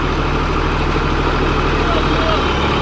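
A Massey Ferguson 246 DI tractor with a rotavator runs steadily at 1500 rpm, its loud, even diesel drone holding constant throughout with a low, continuous rumble.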